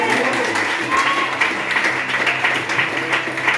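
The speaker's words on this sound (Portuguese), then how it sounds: "Aleluia, aplaude mais forte." A church congregation applauds in a steady, full wash of clapping, with voices and a low hum of talk running underneath.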